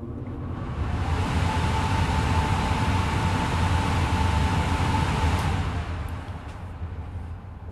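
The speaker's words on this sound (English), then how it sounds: "so that was the noise of the lamina flow hood" A laminar flow hood in a tissue culture setup runs with a steady, broadband airy hiss and a faint hum that holds constant for several seconds.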